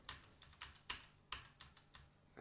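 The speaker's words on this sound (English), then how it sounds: "Stupid keyboard." Keys clatter on a computer keyboard during a Satisfactory gaming session, a series of quick, crisp taps at an irregular pace, close and fairly quiet with no talking.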